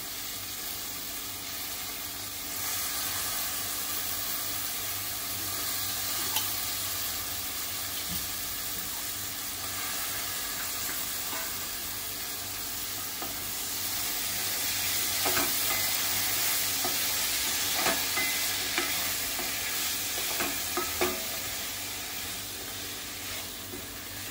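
Dried shrimp (ambar) and potato fry in a pan with a steady, soft sizzle, broken now and then by light scraping and clinking as they are stirred.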